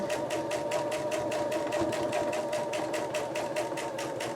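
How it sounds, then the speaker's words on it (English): A sewing machine stitches a diamond-pattern quilt at a quick steady pace, a rapid even mechanical chatter with a motor hum underneath, close and continuous with no talking. "See how you can hear that it is sewing a little bit quicker to when we first started."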